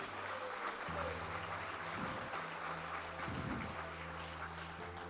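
A church congregation claps in two short bursts of applause, moderately near, over a steady sustained organ or keyboard drone that plays throughout.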